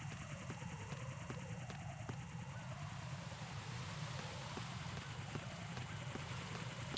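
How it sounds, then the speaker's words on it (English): A helicopter in the video game Metal Gear Solid 2 drones steadily with a rapid, continuous rotor chop at moderate distance, unbroken throughout and without speech. "And the stupid copter's back."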